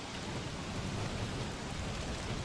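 Steady rain falls in the video game Don't Starve Together, a dense, even hiss that holds at a constant level throughout with no voices.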